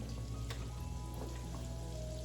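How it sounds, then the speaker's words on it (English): Steady crackling and sizzling of garlic frying in a hot pan, close and continuous, with small pops over a low background hum. "So that sizzle, that tells me it's hot enough for the chicken."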